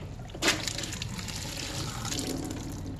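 Tap water runs into a sink while food is washed for braised beef in soy sauce, a close, steady trickling and splashing stream, with a brief louder gush near the start.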